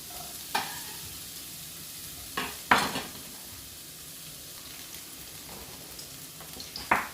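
Vegetables for a hearty soup sweating in a pan, a soft steady sizzle with a few sharp stirring scrapes spaced apart, close and fairly quiet.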